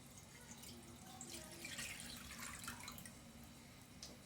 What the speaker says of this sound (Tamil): ஒரு வாணலில் ஒரு சொம்பு தண்ணி ஊற்றி